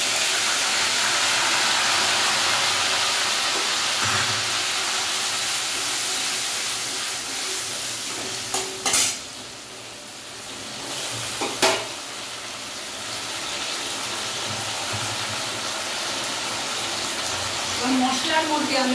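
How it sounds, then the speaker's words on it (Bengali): Ginger, tomato and green chili paste hitting hot oil for a mixed vegetable khichdi, giving a steady loud sizzling hiss. Near the middle come a couple of sharp utensil clanks, and the frying continues close by without pause. "এবার আমি যেটা পেস্ট করে রেখেছি আদা, টমেটো আর কাঁচা লঙ্কা, সেই পেস্টটা আমি দিয়ে দেবো তেলের মধ্যে"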